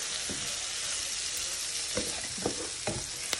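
Brussels sprouts fry in a pan for a honey sriracha dish, a soft continuous sizzle broken by a few sharp crackles and stirring clatters, quiet and without voices.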